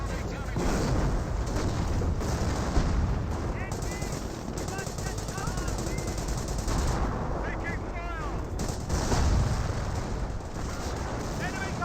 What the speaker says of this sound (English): Mobile artillery reaches target.